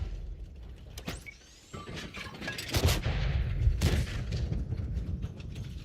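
Tank gunfire in World of Tanks on console, with sharp booming shots and impacts cracking out at irregular intervals over rumbling engine and battle noise.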